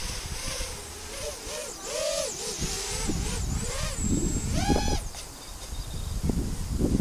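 A FullSpeed Fighter 130 micro drone with 1106 motors flies outdoors on a windy day, its high motor whine repeatedly sweeping up and down in pitch as the throttle punches, with wind buffeting the microphone.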